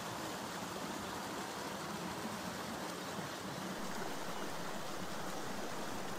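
Creek water rushes steadily upstream in a wooded hiking spot, a continuous broadband wash of flowing water filling the whole stretch with no voices.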